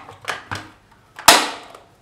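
Nerf Retaliator blaster fitted with a bolt-action kit, its bolt halves pressed together: a couple of light plastic clicks followed by one sharp, loud snap as the halves shut, close and alone.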